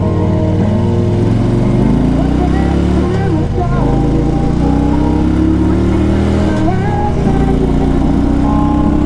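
A 2004 Harley Davidson Ultra Classic motorcycle rumbles loudly and steadily on a test ride, with the engine pitch rising and falling through gear changes and a voice speaking over it.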